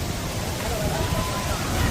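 The waterfall at Courtallam roars in a continuous broadband rush, with a crowd's babble blended into the steady wash.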